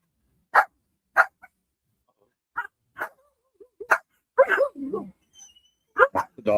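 Dogs bark in a series of sharp, loud, widely spaced barks at a rural home, mixed with a few softer whines and yips, with some voice-like sounds in between.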